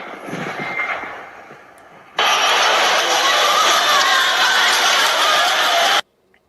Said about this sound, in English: So this is the crowd with using the sound weapon that you're talking about, William?